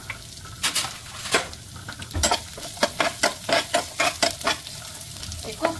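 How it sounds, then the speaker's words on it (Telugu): Chopped onions and green chilies fry lightly in a pan, a soft steady sizzle broken by a quick run of loud rhythmic clacks and scrapes from a spoon stirring against the pan. "మనం తరిగి పెట్టుకున్న ఆనియన్స్, పచ్చిమిర్చి వేసేసుకోవాలి"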